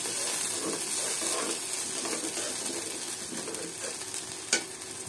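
Spices and milk powder being sautéed in a pan, a steady close sizzle with scraping stir strokes throughout and one sharp knock of the utensil near the end, no voices.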